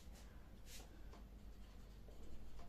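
Pen on paper while writing out a maths answer by hand, with quiet scratchy strokes in short irregular bursts, close and faint, with no voice.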